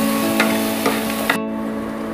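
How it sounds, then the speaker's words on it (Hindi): Spices and vegetables sizzle lightly in a pan, with turmeric and chaat masala among the spices and a steady frying hiss broken by a few soft stirring scrapes before the sound cuts off abruptly. "सभी को हल्का भून लेते हैं।"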